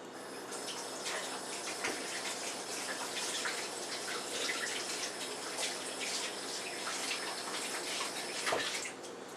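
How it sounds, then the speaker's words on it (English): Hands being washed under a running kitchen tap while cooking, a steady, continuous splash and hiss of water lasting the full stretch at an even, moderate level with no talking. "I'm going to wash my hands."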